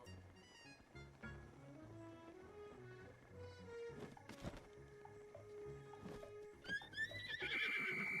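A horse in Breath of the Wild neighs and whinnies with clip-clopping hooves, set against game music and ambient effects, growing louder toward the end.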